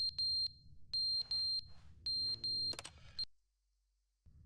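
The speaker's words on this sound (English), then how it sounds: "Oh, it's a fire alarm." A fire alarm in the Stanley Parable Ultra Deluxe video game sounds in loud, piercing beep bursts in an irregular pattern, then a clattering noise before the alarm stops and near-silence follows.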